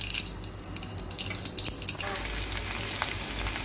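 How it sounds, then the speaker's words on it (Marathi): Mustard seeds crackle and sizzle in hot oil in a kadai, a dense, steady spitting frying sound with small sharp pops throughout, close and fairly loud, no talking. "तर आपण थोडी मोहरी टाकून घेणार आहोत"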